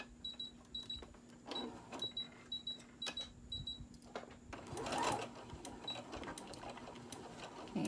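A sewing machine stitching a back stitch on a kitchen hot pad, close rhythmic mechanical whirring in short runs that stop and restart, ending in a louder clunk.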